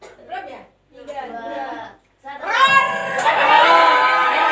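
Several voices of students in a classroom mimic cat meows, first a few separate meows with pauses, then a louder overlapping burst of meowing from the group.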